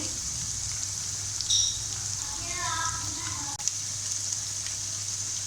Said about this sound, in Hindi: चिकन तकरीबन फ्राई हो चुका है।